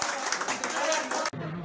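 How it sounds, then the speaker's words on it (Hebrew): A crowd applauds soldiers of unit 211 at a hosted holiday studio event, with dense, steady clapping filling the room for over a second before it cuts off abruptly and a voice begins speaking. "כאן מחיאות כפיים"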